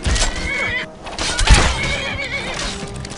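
A horse neighs in Skyrim, loud and near, with several whinnies that ride over combat noise and hoof sounds in the game.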